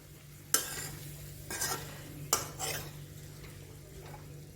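Sabudana khichdi being stirred in a pan after the gas is switched off, three or four distinct scraping stirs of a spoon against the pan over a quiet, faint background, no talking.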